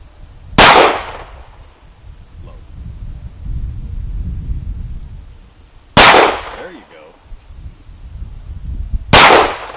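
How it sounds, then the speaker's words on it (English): Sig Sauer P938 pistol fired outdoors, three sharp loud shots several seconds apart, each with a short echoing tail, with low rumbling background and some voices between shots. "let you shoot the long-distance alien with the close-quarters gun"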